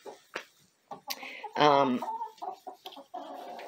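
Chickens cluck in short scattered bursts near a coop, with one louder drawn-out squawk in the middle and soft background noise between calls.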